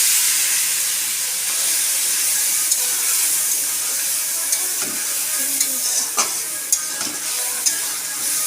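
An egg fries in hot oil in a pan with turmeric and spice paste, a steady loud sizzle with occasional stirring scrapes and sharp spits, and no talking.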